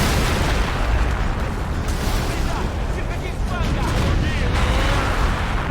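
An anti-tank gun in Men of War: Assault Squad 2, a WWII battle game, fires a rapid string of heavy booms amid continuous loud battlefield explosions and rumble, with a voice talking over the din.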